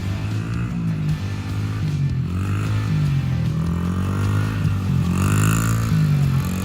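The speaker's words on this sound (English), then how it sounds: "here's a video of my son the first time he jumped on a motorcycle, a little tiny dirt bike" A little dirt bike motorcycle ridden by a small child drones close by, its engine pitch rising and falling in gentle revs with light mechanical clatter, and no talking.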